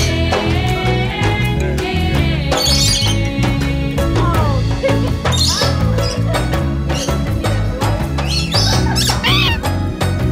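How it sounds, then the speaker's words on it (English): Birds at Lion Country Safari in West Palm Beach, Florida squawk and chirp loudly and close by, with overlapping calls throughout and a continuous background of music or other sound underneath. "This is where all the birds can be so close to you."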